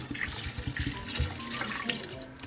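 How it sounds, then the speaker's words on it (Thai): Water pours into a cooking pot to cover young pork spare ribs for a Thai clear soup with winter melon. A continuous close splashing rush runs throughout, with no talking. "ใส่น้ำให้ท่วม หมูครับ"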